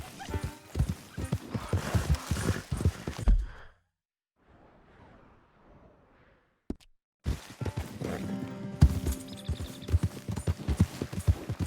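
Horse hooves clip-clopping in Red Dead Redemption II, a brisk run of hoof beats that breaks off into a near-silent gap before resuming, with a brief whinny-like breath in between.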